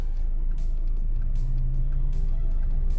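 A Honda K20-engined car revs on a busy road, its engine rising in a steady droning climb that stays loud and close, with traffic noise underneath throughout.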